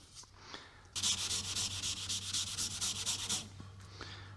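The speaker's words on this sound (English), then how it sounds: "you've got to scuff all the panels, right? Minimum of, a Scotch-Brite at least" Abrasive pad scuffing the body panels of a 1942 Ford hot rod build, a close, steady run of rapid back-and-forth rubbing strokes lasting about two and a half seconds against a low background hum.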